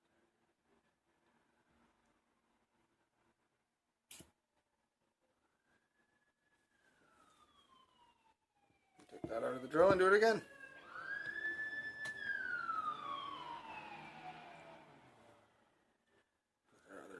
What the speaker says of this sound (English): Probably just heard the sirens.